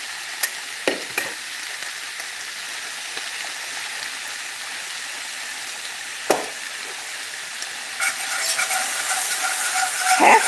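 Butter melting toward burning in a pan for chipped beef gravy gives a steady, moderate sizzle with scattered clicks and utensil taps, growing louder and busier near the end.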